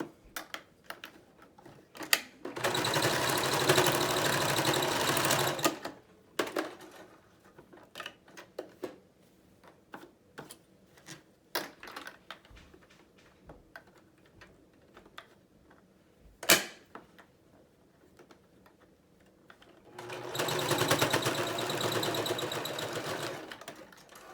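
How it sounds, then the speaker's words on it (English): A sewing machine stitches a single holding seam along the edge of a fabric face mask, running in two loud sustained bursts with a long stretch of quiet clicks, handling and small knocks between them. "We're gonna sew one time as close as we can down on this side"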